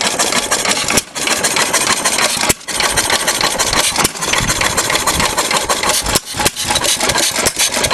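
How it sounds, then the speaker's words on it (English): A loud Sattley 1.5 engine on its first run runs steadily with a constant rattling and clattering from the cart it sits on, broken by a few brief drops in the noise. "A lot of the noise is just that stupid cart rattling around."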